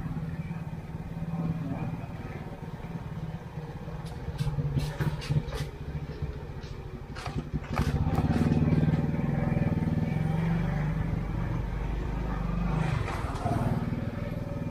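Motorcycle engine running steadily up close while riding over a hanging bridge, with intermittent clatter from the deck and speech-like voices over a continuous mid-frequency drone.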